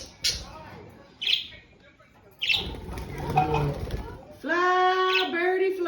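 A pet quaker parrot chirps and chatters in short bursts, with a rising harmonic call near the end, while a person talks to it throughout at close range.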